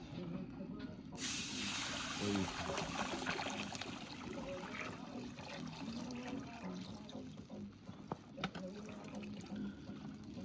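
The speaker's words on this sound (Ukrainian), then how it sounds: "наливай воду" Water pours from a plastic jug with a steady splashing hiss, close by, while people talk faintly in the background.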